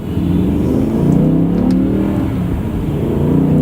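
A car engine in manual mode pulls hard from first gear, revving loud and steady as an automatic clutch takes each shift, with the pitch climbing continuously and no voices over it.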